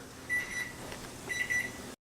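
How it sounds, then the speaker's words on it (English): Two short runs of electronic beeps from a cooking timer, fairly faint in the background over a low steady hum. "that beeping in the back is because it's time to flip the chicken"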